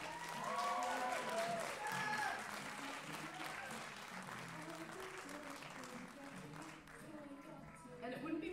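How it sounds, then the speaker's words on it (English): Audience applause at a school concert launch, steady dense clapping from a crowd that carries through the whole stretch, with some voices and faint musical tones mixed underneath. "Can you please give these wonderful people a round of applause?"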